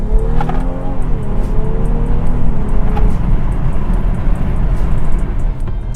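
The B58 engine of a 2018 BMW X3 M40i SUV sounds while driving, a steady loud drone with rising and falling tones throughout, heard from inside the cabin with no exhaust noise coming through the speakers.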